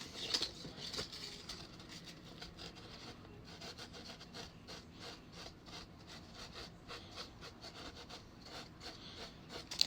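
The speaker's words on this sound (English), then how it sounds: "so we're going to just want to sand this a little bit" Sandpaper is worked over a vintage hat in quick, faint, repeated rubbing strokes. The scratchy rasping goes on with an uneven rhythm and no talking.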